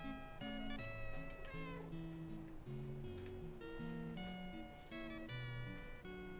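A cat meows repeatedly in a video game, the cries woven through a busy, bright musical backing with plucked and tonal notes, all fairly quiet and steady without talk.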